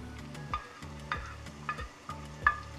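Onion and garlic sautéing in a pan, a soft steady sizzle broken by regular scraping stirs of a utensil, close and quiet with no talk.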